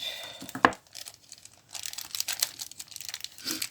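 Cardboard and plastic packaging of Mylee Pro nail product boxes crinkles and tears in bursts, with one sharp crack early on, close and fairly quiet, with no voice.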